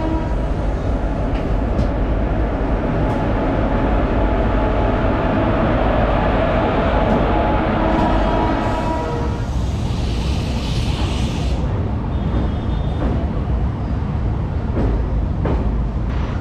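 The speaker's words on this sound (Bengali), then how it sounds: "আমাদের ট্রেন আহমেদাবাদ ছেড়ে গান্ধীনগর স্টেশন অভিমুখে রওনা দিল।" Train pulling out of Ahmedabad station bound for Gandhinagar: a steady, loud rumble of rolling wagons that continues throughout, with a brief high squeal or hiss partway through and no talking.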